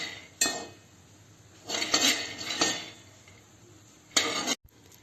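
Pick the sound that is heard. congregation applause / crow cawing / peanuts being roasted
peanuts being roasted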